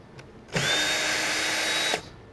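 Power drill driving a screw while a high deck chair is assembled, a single steady whir of about one and a half seconds, near and fairly loud, stopping abruptly.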